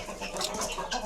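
Chickens, including roosters, cluck softly in a short burst, a few close, scratchy calls overlapping.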